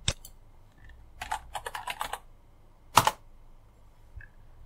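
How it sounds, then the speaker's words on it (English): Keys tapped on a computer keyboard to enter a name, heard as short bursts of clicks and a few sharper keystrokes over a quiet background, with no talking. "Type in a name."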